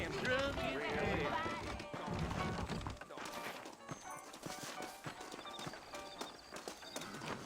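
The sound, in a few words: horses galloping, from a video game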